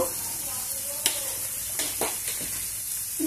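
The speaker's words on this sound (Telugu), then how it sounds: "కొద్దిసేపు వేయించుకున్నాము" Onions with turmeric fry in a pan with a soft, steady sizzle, broken by a few brief scrapes and taps of a spoon stirring.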